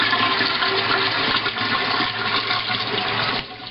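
Water gushes steadily from a homemade hose into a Cornelius keg with cleaning solution, a loud continuous rushing fill in a home brewing workshop that eases off slightly near the end.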